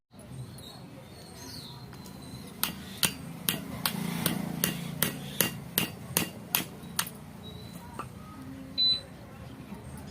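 Sharp hammer blows breaking apart a charger to separate its plastic casing from the iron inside, about a dozen crisp, evenly spaced knocks close by over a quiet background.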